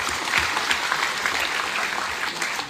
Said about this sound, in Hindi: हमारा बुरी बदल के लिए भी आप लोग थोड़ा सा ताली मार दीजिए